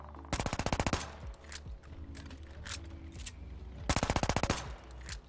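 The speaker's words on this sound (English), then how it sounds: "Take a look at this. Machine pistol." A machine pistol fires in the video game Call of Duty: Vanguard: two rapid, crisp bursts of automatic fire, loud and close, separated by a stretch of softer game noise.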